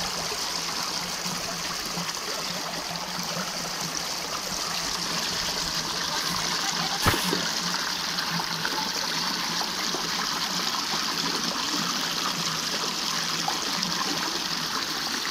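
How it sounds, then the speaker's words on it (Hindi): River water flowing steadily, a continuous broad rush and gurgle that stays even throughout, with a single sharp click partway through and no voices. "पानी का कितना सुंदर लगता है बहता हुआ पानी"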